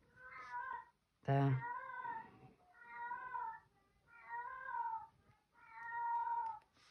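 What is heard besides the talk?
cat meowing, female cat in heat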